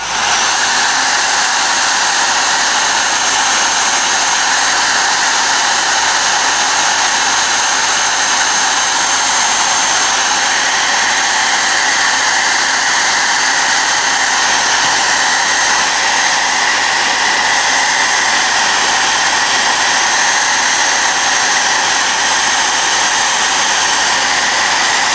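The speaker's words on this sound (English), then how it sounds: "What I'm going to do quickly is force dry this with the hairdryer" A hairdryer blows continuously and loudly at close range, force-drying paint on a miniature figure, a steady unbroken whoosh for the whole stretch with no voices.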